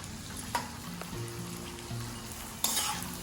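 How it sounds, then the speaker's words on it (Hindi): Edible gum sizzles and fries steadily in hot ghee, a constant crackling bed with occasional stirring clinks and scrapes of a spoon in the pan, close and without talk. "सबसे पहले हम इसमें अपने गोंद डालेंगे और इनको हल्का सा फ्राई"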